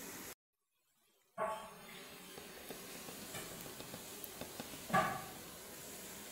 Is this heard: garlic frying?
yes